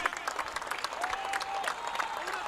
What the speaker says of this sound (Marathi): प्रेक्षकांना विनंती आहे जोरदार टाळ्या होतात या मॅच साठी